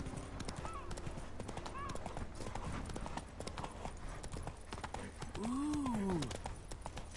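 Steady clip-clop of the horse Roach galloping in The Witcher 3, hooves drumming throughout with a whinny near the end, while a player exclaims and talks over the game sound.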